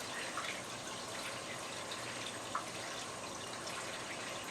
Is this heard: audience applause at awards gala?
no